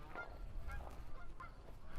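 Several geese honk intermittently at a distance over a low rumbling outdoor background.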